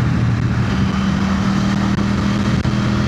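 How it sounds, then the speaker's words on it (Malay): Parallel-twin engine of a KTM Duke 790 motorcycle droning steadily and loud throughout a ride, with a constant low rumble and no voices over it. "Layan lah touch ride dengan motor Duke ni."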